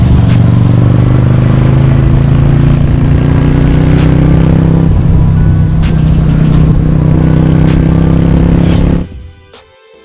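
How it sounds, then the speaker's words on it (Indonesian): A Keeway V-twin cruiser motorcycle idles through its standard exhaust with a deep, steady, booming rumble close by for about nine seconds, then the engine cuts off and only faint background remains. "Pakai knalpot standar saja sudah cukup menggelegar dan gak khas suara mesin V-twin."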